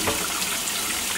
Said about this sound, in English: And we'll just run water over the top